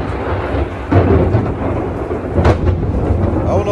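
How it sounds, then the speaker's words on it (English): Raw Caribbean thunder rolls through a storm in Sosua, Dominican Republic, deep rumbling booms that swell and fade over steady, loud rainfall. "That's just straight raw Caribbean storm thunder."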